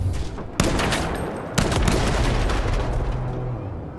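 Rapid video-game gunfire rattles in dense bursts, with two sharp onsets starting loud, sustained volleys that fill the whole clip, close and loud with no speech.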